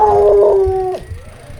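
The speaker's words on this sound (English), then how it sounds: "Dog barking at me." A dog barks and howls loudly and close by in the village of El Zacatal in Mexico, with a long drawn-out wail followed by fainter yips.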